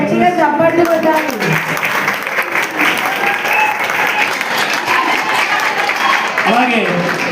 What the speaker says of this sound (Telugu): పిల్లలు గట్టిగా చప్పట్లు కొట్టాలి